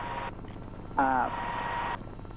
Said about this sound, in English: It's just me in the helicopter right now.